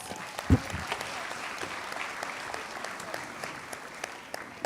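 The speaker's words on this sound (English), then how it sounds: "Give yourselves a round of applause." A crowd at the 60th anniversary Children's March event in Birmingham applauds steadily throughout, a moderately loud wash of clapping with one brief low thump near the start.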